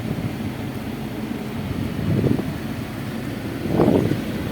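A Toyota Fortuner's air conditioner blows a steady, whooshing stream of air, a broad, even rush that stays constant and close, swelling slightly a couple of times, with no talk.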